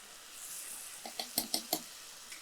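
Garlic, ginger and onion frying on a low flame in a pan for chicken semiya soup; a faint, soft sizzle with a few quick stirring scrapes toward the end.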